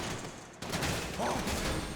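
Rapid bursts of gunfire ring out during a police shootout in the video game GTA 5, loud cracking shots packed closely together after a sudden cut, with chaotic action sounds around them.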